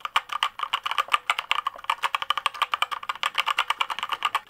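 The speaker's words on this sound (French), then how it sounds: "On écoute tout de suite le bruit des touches." Rapid, uneven typing on a budget gaming keyboard with linear switches: a dense run of crisp, close keystroke clicks and clacks, steady and fairly loud, with no voices.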